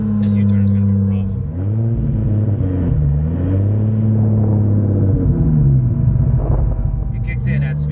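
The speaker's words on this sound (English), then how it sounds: "It's not that quiet in the car. No, It's got like some tone to it. it sounds like a Supra." A 2JZ-swapped Dodge Hellcat drones loudly from inside the cabin while driving, its low engine tone rising and falling as it revs, with people talking over the steady rumble.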